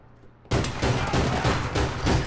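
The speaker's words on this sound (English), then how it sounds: "Something about them shooting an OCA in my face kind of messed my plan up." Gunfire in the online shooter APB Reloaded: after a quiet half second, a loud sustained burst of rapid automatic shots with a rhythmic pulsing beat runs close and continuous to the end, with no talk.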